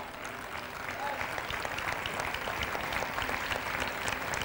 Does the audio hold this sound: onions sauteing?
no